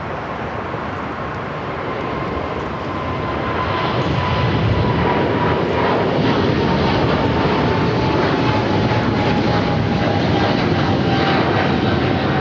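A wet-leased Airbus A330 jet at LAX gives a loud, sustained engine roar that swells over the first few seconds and then holds steady, close and without talk.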